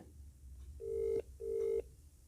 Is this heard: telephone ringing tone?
yes